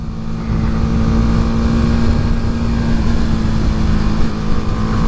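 A motor engine holds a steady high-revving drone, loud and buzzy throughout, with a strong low hum and little change in pitch.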